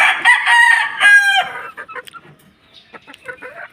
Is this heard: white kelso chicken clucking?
yes